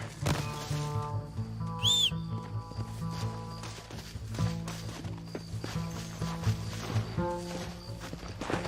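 Horse hooves clip-clop steadily in a Western setting from Red Dead Redemption, with a whistle-like cry and a horse snort mixed into a busy game soundscape beside a train.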